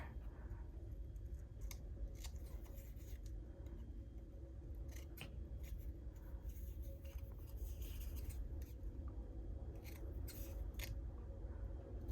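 Scissors snipping through a paper craft tag, trimming white edges in quiet bursts of short crisp cuts spread across a faint, hushed background, close and without talk.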